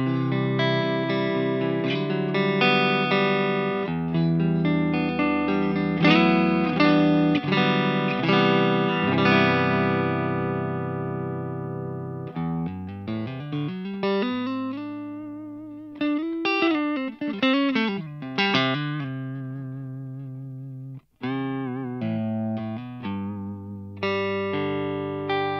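Clean electric guitar played through a Sigma Audio cabinet impulse response: crisp, bright picked chords and single-note runs with bends, moderately loud and alone, with short pauses between phrases.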